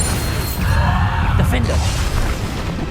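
Bombarda spell blast in Hogwarts Legacy, a loud booming explosion with crashing, shattering debris over a deep rumble, close and dense for the whole stretch, with a voice briefly audible within it.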